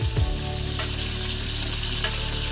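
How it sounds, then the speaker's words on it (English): Unsalted butter and fresh thyme sizzle in a pan during a filet mignon recipe, a steady moderate fizz with a couple of brief clunks at the start. "I'm adding some butter, a couple tablespoons of unsalted butter for me, thyme, fresh thyme"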